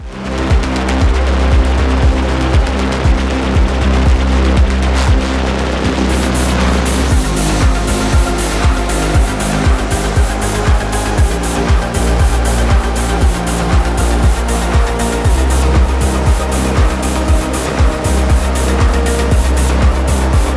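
Dense, loud electronic music from the Katana Zero video game soundtrack, with a driving beat and layered synth tones, playing continuously and growing fuller after a few seconds.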